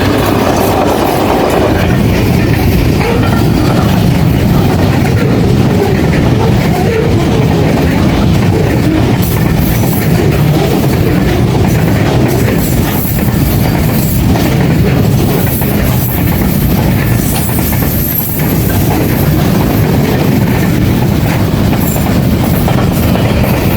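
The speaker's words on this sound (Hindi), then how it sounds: "8207 लीड कर रहा है कंटेनर ट्रेन को" Pakistan Railways HGMU 30 locomotive 8207 hauls a container train, a loud steady rumble of engine and rolling wagons with clattering wheels passing close by for the whole stretch, no voices.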